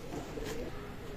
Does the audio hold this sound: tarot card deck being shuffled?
no